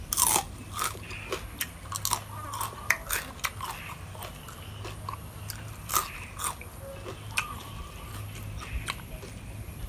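Pork rinds crunched close up while being eaten with spicy papaya salad, a steady run of irregular crisp bites and chews over a faint low hum, with no talking.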